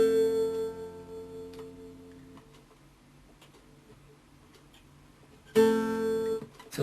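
A wide chromatic chord voiced Bb F C a c# f rings out on guitar and slowly decays, then is strummed again near the end, clear and alone without talk.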